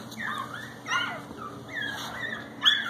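One-week-old shih tzu and bichon cross puppies whimper and squeal in a string of thin, rising cries, close and fairly soft, with a sharper yip near the end.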